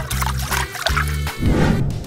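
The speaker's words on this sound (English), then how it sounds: "let's drop the cars and trains into the water." Toy cars and trains are dropped into water, giving a short splashing, pouring burst near the end over a looping melodic tune that plays throughout.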